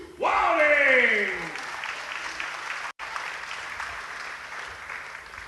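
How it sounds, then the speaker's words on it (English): An audience at a Glasgow grappling match breaks into loud applause for a competitor, a burst of clapping with a whooping cheer that quickly fades to scattered claps. "Please give your applause going for his competitor, Luke Wilding."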